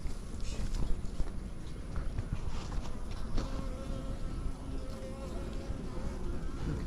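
Honeybees buzzing densely while a top bar hive is transferred into a smaller hive for winter, a close continuous drone with light handling noises and brief speech beneath it.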